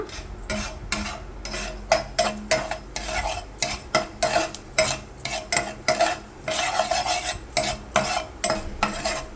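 A tempering of red chillies and curry leaves fries in hot oil for a radish mixed vegetable curry, with a spoon scraping the pan in quick rhythmic strokes over a soft sizzle.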